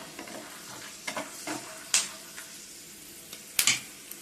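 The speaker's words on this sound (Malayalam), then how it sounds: "അതല്ലെങ്കിൽ പച്ച കപ്പലണ്ടി ഇങ്ങനെ വറുത്തെടുക്കുക." Raw peanuts roasting in a pan give a continuous soft crackle, broken by several sharp scrapes and clinks as they are stirred, close by and with no voices.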